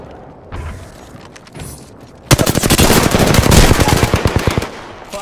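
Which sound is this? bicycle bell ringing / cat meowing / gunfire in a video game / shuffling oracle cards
gunfire in a video game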